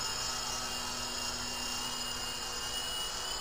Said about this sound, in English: Now here's like a little speed test.